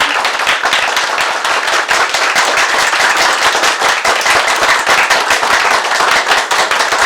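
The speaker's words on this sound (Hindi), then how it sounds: "जोरदार तालियों से खड़े होकर अपनी अपनी सीट से।" An audience at a festival sales seminar gives a standing ovation to welcome a speaker: dense, continuous applause, loud and steady throughout with no talking.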